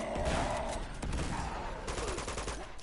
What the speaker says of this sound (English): I'm going to blow up that sap and throw 2 grenades at him